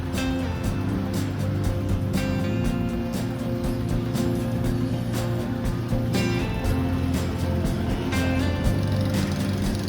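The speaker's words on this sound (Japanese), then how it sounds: "クラクションとバイクの音を聞くとベトナムに来たことを実感する。" Dense street traffic in Ho Chi Minh City, Vietnam: a steady mass of motorbike engines running continuously, with brief sharp horn-like bursts scattered throughout over a constant roar.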